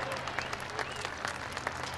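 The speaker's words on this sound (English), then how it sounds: "Big round of applause there for Kate Wills" Crowd applause for a skydiver landing at a skydiving display, dense steady clapping from a sizable outdoor audience with a low background hum and some faint voices mixed in.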